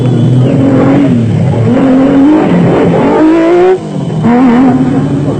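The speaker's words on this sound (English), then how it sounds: "they off with the V6 Nissan engine at peak RPM" A V6 Nissan engine in a Nissan Hardbody off-road race truck revs hard at the start of the Barberspan 500, loud and close, its pitch climbing and dropping through repeated gear changes.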